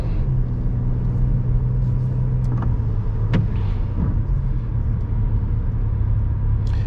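A car accelerates through a right turn on red onto a one-way street, its engine a steady, loud rumble that holds throughout with faint road noise and a few brief knocks.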